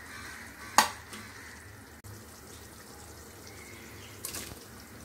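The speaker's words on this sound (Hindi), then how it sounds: "ये देखिए मैं सारे मटन के पीसेस इसमें डाल रही हूँ जो हमने फ्राई करके रखे थे।" Fried mutton pieces dropped into a pan of sizzling gravy and stirred, with a low bubbling hiss, a sharp clatter near the start and another scrape later, close and without talking.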